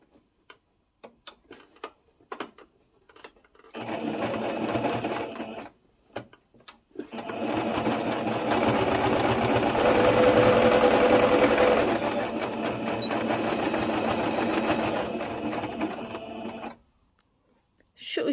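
Sewing machine running in steady stretches, stitching the straight section of a pleated skirt with the excess fabric folded back, near and fairly loud after a few soft handling clicks.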